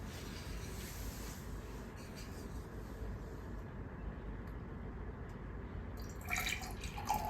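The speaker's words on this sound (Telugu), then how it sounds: "ఒక హాఫ్ కంటే కొంచెం ఎక్కువగా వాటర్ తీసుకోండి." Water is poured into a small jar, a faint, steady splashing stream that runs almost the whole time with a few brighter trickles near the end.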